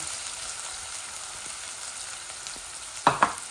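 Onion fries in a pan for chicken curry with potatoes, giving a steady soft sizzle, with two sharp stirring knocks near the end and no talking.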